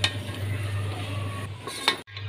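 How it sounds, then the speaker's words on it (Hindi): Aloo baingan (potato, eggplant and tomato vegetable curry) being stirred in a pan, with close scraping and light clinks of a utensil against metal over a steady kitchen hum. "ये हमने अपनी सब्जी मिक्स कर दी है।"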